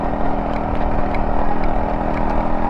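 A motorbike rides along a brick road beside an irrigation canal, its engine a steady close drone with wind and road rumble and no pauses.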